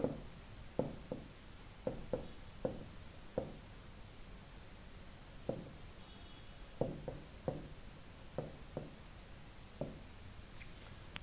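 Pen strokes on paper while working out a class 7 math ratio problem: a series of short, soft scratches in irregular bursts, close and quiet, without talk.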